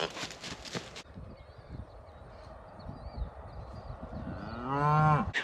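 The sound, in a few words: cattle mooing at the pig feeder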